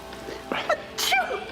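A single sneeze in a domestic scene from a television soap drama, sharp and close, with a quiet room tone and a brief voiced tail around it.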